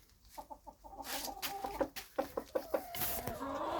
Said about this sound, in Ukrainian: Так я прийшов до цих курей.